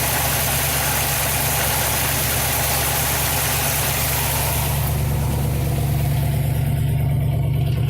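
A rough old barn-find Pontiac Firebird engine, first started in over 20 years, idles steadily and loudly with no floors fitted and timing slightly off, a low throbbing rumble with a constant rattle, easing slightly toward the end.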